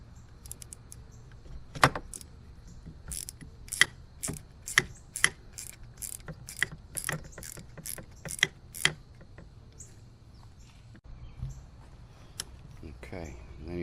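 A ratchet wrench clicks in quick bursts of sharp ticks while removing a nut from the starter of a Mercury 9.9 outboard motor, close and crisp, with pauses between runs of clicks.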